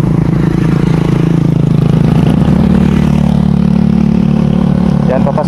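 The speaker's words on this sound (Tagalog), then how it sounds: "Dami rin dumadaan ng mga motor." Motorcycles pass along a village road in Barangay Buena Vista, Palompon, Leyte, with a loud, steady engine drone close by and some clattering toward the end.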